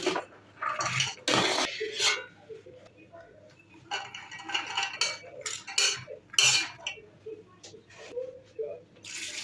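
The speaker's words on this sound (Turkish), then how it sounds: "uygun bir tencerenin içerisine fasulyelerimizi ilave edelim" Close-up clatter of dry beans tipped into a metal pot, coming in several rattling bursts with scraping pot sounds between them.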